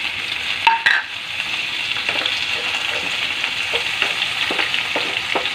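Tomatoes added to a pan of pork, garlic and onion sizzle loudly and continuously up close, with a clatter of something dropping in early and repeated scraping stir strokes throughout.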